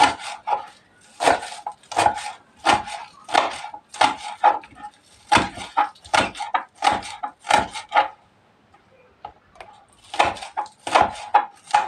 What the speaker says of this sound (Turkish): Bunları şöyle küçük küçük doğruyorum.